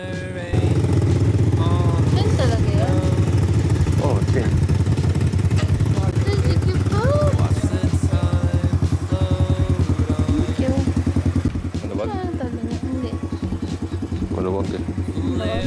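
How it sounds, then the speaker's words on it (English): A steady, loud ATV engine runs continuously while riding in Barili, Cebu, a close rumbling drone with shifting revs and rattles, while people talk over it. "The first one was riding an ATV in Barili."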